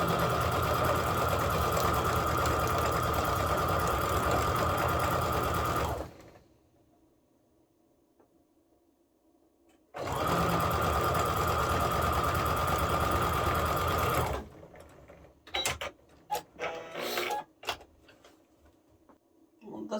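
A sewing machine stitches quilt seams in two steady whirring runs of several seconds each, loud and close, split by a quiet pause and followed by scattered clicks and handling taps.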